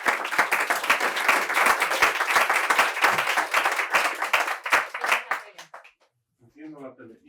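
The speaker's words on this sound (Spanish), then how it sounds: "Un aplauso, por favor" Applause from an audience at a rural science event fills most of the clip with dense, steady clapping that thins into scattered claps and stops near the end, followed by a brief faint voice.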